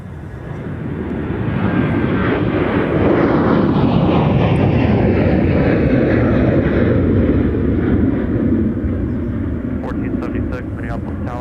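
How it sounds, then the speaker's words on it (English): Delta airliner taking off from runway 30 left at Minneapolis–St. Paul airport, a loud sustained jet roar building and holding as it climbs away, with a voice talking over it. "as we watch this Delta 8321 get off 30 left"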